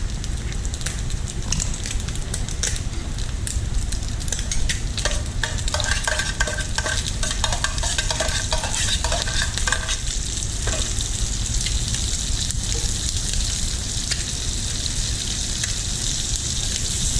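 Onion and garlic frying in oil in a pan with fettuccine for aglio e olio pasta, with bacon already crisped, giving a steady close sizzle with stirring scrapes throughout and no talk.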